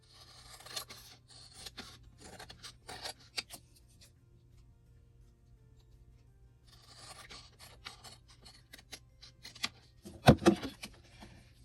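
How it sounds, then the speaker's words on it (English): Scissors snip and rustle through packaging paper in short bursts, with a long quiet pause in the middle and then a sharper, louder cut near the end. "so I am going to cut a little off this side"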